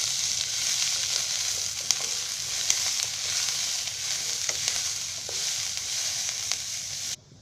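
Chopped onion and garlic fry in a pan for a Marathi stuffed brinjal curry, a continuous bright sizzle with occasional sharp pops and crackles that cuts off abruptly near the end.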